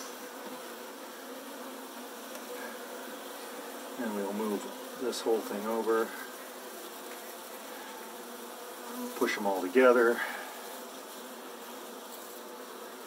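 Saskatraz honey bees hum steadily inside a newly installed hive, a close continuous drone with some bees fanning, while a person talks briefly over it.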